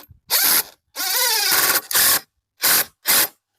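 Screws driven into wood framing for a tiki bar half wall, heard as five short loud bursts of a driver, the second one longer, separated by brief silences.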